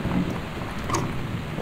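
Thunder rumbles in the exploration video game Gone Home, a low, dull roll that swells briefly and fades, heard by itself without talk.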